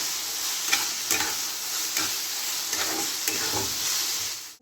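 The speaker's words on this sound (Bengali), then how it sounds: "এই মশলা কষাটার সাথে সোয়াবিন ভাজাগুলো দিয়ে দিচ্ছি।" Fried soya chunks stirred into a sizzling spice masala in a pan, a constant loud sizzle with a few distinct scraping strokes of the spatula at regular intervals.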